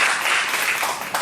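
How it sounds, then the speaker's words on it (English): Dense, steady applause from an audience at a live comedy stage show, a continuous wash of clapping that briefly swells near the end. "Oh, if you want to applaud for him,"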